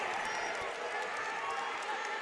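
A college wrestling crowd at Holloway cheers loudly during a Wisconsin at Purdue Big Ten match as a 125-pound wrestler works to finish a pin. The continuous roar of the arena fills the space.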